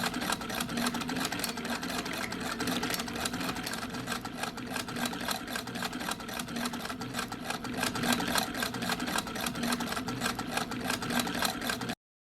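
A sewing machine stitches the fabric of a 1903-style bustle pad in a continuous fast mechanical chatter, even and close, that runs alone without any talk until it stops abruptly.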